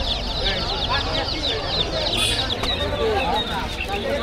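Turkeys call repeatedly amid other clucking fowl at a busy poultry market, with steady crowd chatter and people talking throughout.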